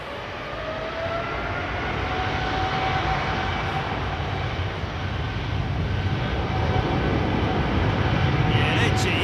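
A Boeing 787 jet airliner with GE engines departing, a broad steady roar that swells slightly and holds, heard from a distance outdoors with faint chatter beneath it.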